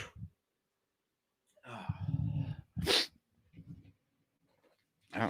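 A single loud, sharp sneeze from someone with allergies, preceded by a breathy snuffling buildup and followed by quiet breathing and a brief vocal sound, close to the microphone.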